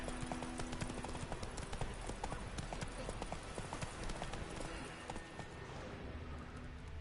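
A horse canters in The Witcher 3, its hooves clip-clopping in a quick, steady rhythm on the ground, close and fairly quiet, with faint game ambience behind.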